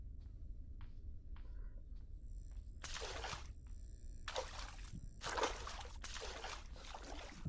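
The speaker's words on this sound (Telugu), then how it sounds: "చాలా ఎక్కువ వస్తుంది వాటర్ సౌండ్." Water trickles and splashes in bursts inside the Granny video game, several loud spells of running water breaking up quieter stretches with faint in-game sounds between them.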